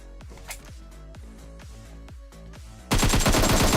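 Gunfire in a shooting video game: a quick string of about nine evenly spaced, moderately loud shots, then a sudden, much louder dense burst of rapid automatic fire at the end.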